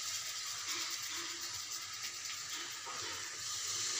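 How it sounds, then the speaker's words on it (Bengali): Water used to rinse spices poured into a hot cooking pan, a continuous rushing, hissing wash of liquid that stays steady and fairly loud throughout. "এইবার মশলা ধোয়া জলটা দিয়ে দেবো"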